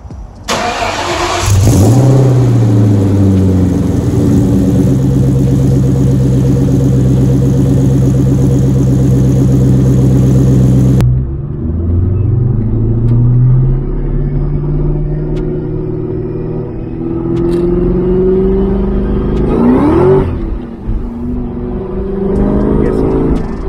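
A Terminator Cobra's engine starts and revs loudly through a modified exhaust, rumbling and rising in pitch, then settles into throaty revs that climb and fall again.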